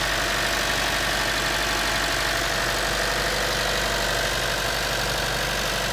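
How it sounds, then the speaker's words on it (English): A 2012 Chevy Cruze Eco with a 1.4 liter turbo engine idles at slightly raised revs after a cold start, a steady close engine drone with no talking. "On a little high RPM because it's a cold start and hasn't been running in a while."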